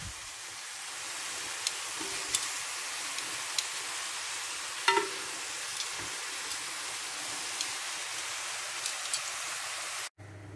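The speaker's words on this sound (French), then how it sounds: "je vais les faire dorer comme ça, de tous les côtés" Pieces of meat browning in a hot pan for a bourguignon, a steady quiet sizzle with occasional small pops and crackles, ending abruptly.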